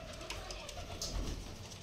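Pigeons cooing softly nearby, low rolling coos over faint background noise, with a few brief higher chirps mixed in.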